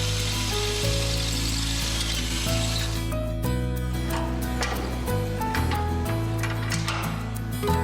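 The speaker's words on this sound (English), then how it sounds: "2 6mm holes must be drilled in the flange on both sides" A power drill bores 6mm holes into the flange of a car body panel, a loud continuous whine with pitch shifts and brief changes as the bit cuts through metal.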